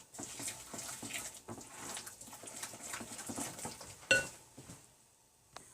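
Coconut yogurt being mixed into vegan chocolate-chip banana bread batter, soft rhythmic stirring and scraping in a bowl with a sharp clink of a utensil near the end.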